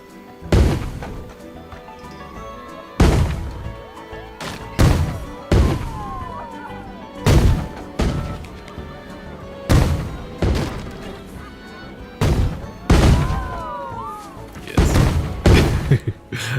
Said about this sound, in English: Oh, we're gonna have some cannons.